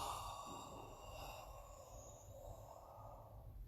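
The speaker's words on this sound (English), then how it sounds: "Inhale here, exhale." A person slowly exhales during a posture and breathing warm-up exercise, giving a faint, soft sigh-like breath out with no speech.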